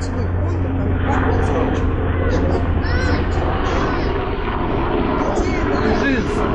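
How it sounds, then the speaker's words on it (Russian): A helicopter passes over a residential coastal Florida community with a steady low rotor drone beneath people talking close by, the engine hum holding level throughout. "Вот сейчас пока сидим, записываем видео, вот пролетел вертолет"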